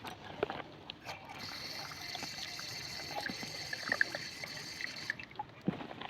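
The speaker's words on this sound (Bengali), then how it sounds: "তো এবার এর মধ্যে আমি জল দিয়ে দেবো।" Water poured into a container of egg shells mixed with detergent, a steady close trickle and splash lasting several seconds, bracketed by soft handling knocks before and after.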